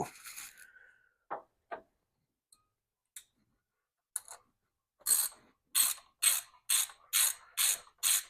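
Ratchet wrench tightening a part on a battered Jeep: a few scattered clicks and a soft rattle, then a steady run of seven loud, evenly spaced ratcheting bursts close by, with no talking.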